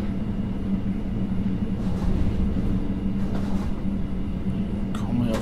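Simulated DB class 628.4 diesel railcar in Train Simulator 2020 rolls onward from a terminus toward Naila, a steady low engine drone and rumble throughout, with faint talk over it.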